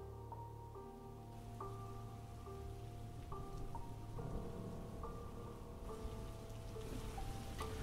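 Steady rain falls at night, a continuous hiss of drops on surfaces with faint thunder-like rumbles, heard alone under a soft melodic tone in the background.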